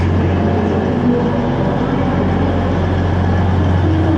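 Train at a London station, a loud steady low rumble and hum of the idling train close by, continuous with no talking.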